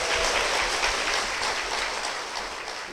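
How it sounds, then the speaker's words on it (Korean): Church congregation claps in continuous, dense applause to welcome a guest, steady and fairly loud, tapering slightly near the end. "여러분 박수로 모시겠습니다"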